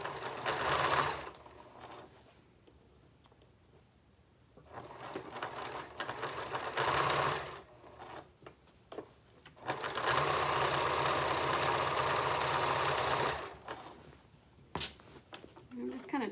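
A sewing machine stitches around the edge of a fabric bin in three bursts of rapid, even mechanical chatter, the longest running for several seconds, with quiet pauses and handling noise between the runs.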